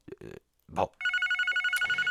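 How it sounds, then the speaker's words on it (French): A telephone rings in steady repeated electronic bursts after a few short knocks and a brief voice, the ring loud and close. "Ah, le téléphone, il sonne encore."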